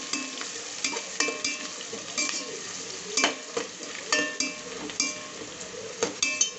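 Mushroom biryani ingredients stirred in a pot with a spoon: steady rhythmic scraping and clinking strokes over a light sizzle, close and fairly quiet, with no talking.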